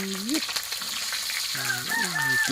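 Fish sizzles in hot frying oil with a steady crackling hiss, broken by loud honking, gliding tones in short bursts at the start and near the end.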